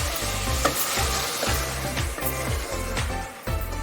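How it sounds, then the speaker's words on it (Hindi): Three chopped tomatoes sizzle and fry in a pot of aloo gosht salan while a spoon stirs them in repeated scraping strokes, a continuous close sizzle throughout. "फिर इसमें 3 अदद चॉप किए हुए टमाटर वो शामिल कर दें और इसे अच्छी तरह मिक्स करें"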